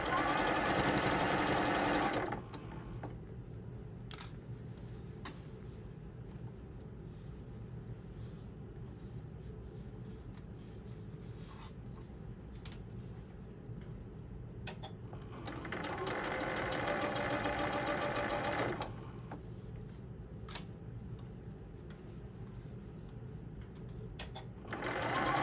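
A sewing machine back tacks over a tote bag seam in loud, fast whirring bursts: a short run at the start, a longer stitch run in the middle and another starting at the end, with quiet handling sounds between them.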